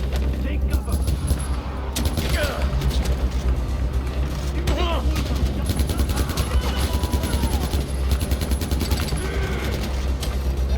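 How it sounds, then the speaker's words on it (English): Machine gun fire rattles in Far Cry 4 in short rapid bursts, loud and close over a steady rumbling engine-like background, with a voice talking over the action. "Always fire in short bursts so that you have the utmost accuracy."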